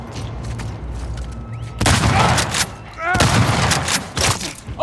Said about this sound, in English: Get the shotgun right now, Ellie.